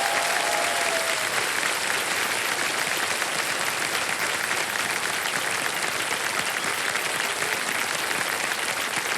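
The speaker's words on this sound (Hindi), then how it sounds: "जोरदार तालियां बज जाए इनके लिए।" Studio audience at a televised quiz show breaking into loud, sustained applause, dense clapping that holds steady for the whole stretch.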